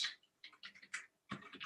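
Computer keyboard typing in short bursts of clicky keystrokes with brief pauses between them, close and fairly quiet, no voice.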